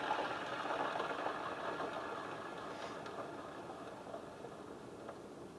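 A Yamaha TerraPro cooling fan of all-aluminum construction, running on a new replacement belt with tight bearings, spins down in a steady, close whirring rush that fades slightly as it slows.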